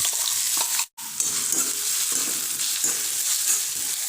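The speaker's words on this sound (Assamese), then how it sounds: "এইখিনি তেলতে এতিয়া মই পিঁয়াজ নহৰু আদাৰ এইটো ভাজি ল'ম" Onion, garlic and ginger fry in leftover paneer oil, giving a steady close broadband sizzle with stirring scrapes, broken by one brief silent gap near the start.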